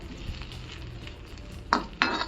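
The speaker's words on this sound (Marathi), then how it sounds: "हा कांदा आहे ना छान असा आपण तेलामध्ये थोड्याशा तेलामध्ये छान असा परतून घेऊया" Chopped onion fries in a little oil for Marathi masoor aamti, giving a soft steady sizzle that flares into two sharp, louder bursts near the end as the pieces are stirred or added.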